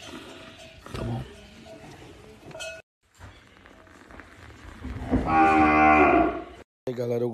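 Dairy cow mooing on a farm, a long loud low moo rising near the end, preceded by softer rustling and background movement.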